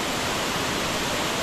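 Batlag Falls in Tanay, Rizal, a steady, dense roar of cascading water, close and loud, running without a break and with no voices.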